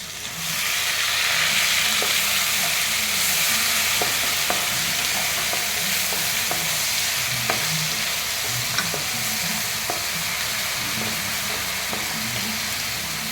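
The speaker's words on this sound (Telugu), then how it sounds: "ఆనియన్ పేస్ట్ చక్కగా ఫ్రై అవ్వాలా, కొద్దిగా బ్రౌనిష్ కలర్ వచ్చేంత వరకు." Onion paste frying in a pan gives a loud, steady sizzle throughout, dotted with small crackles and pops, with no voices present.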